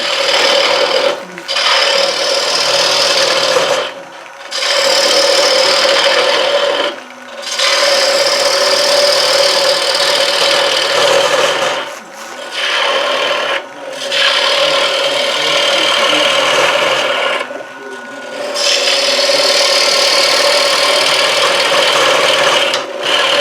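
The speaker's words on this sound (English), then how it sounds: "Now I'm gonna hollow that out." A gouge hollows out a spinning wood piece on a lathe, giving loud, rasping scrapes in long strokes with short pauses between cuts and the lathe's steady hum underneath.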